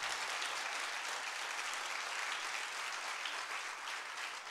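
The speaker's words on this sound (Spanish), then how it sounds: "Den un aplauso fuerte al Señor." A church congregation claps together during a service, a dense, even wash of applause that holds steady throughout without voices standing out.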